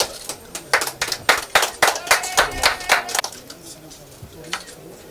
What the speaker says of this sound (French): Il faut applaudir quand même